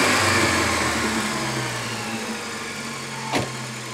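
A Volvo 240 engine idles loud and close after a throttle blip, its revving hum slowly easing back down to a steady idle, with a brief click near the end.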